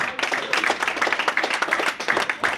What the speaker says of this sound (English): Give a round of applause, a black hand for Ras Asheber and Brother Pharaoh.